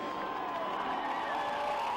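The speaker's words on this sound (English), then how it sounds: "listen to the crowd as they acknowledge Jeff Gordon when he goes by" A racing crowd at Indianapolis cheers and whoops as Jeff Gordon drives past in a stock car race, a steady, fairly distant roar that swells slightly over two seconds.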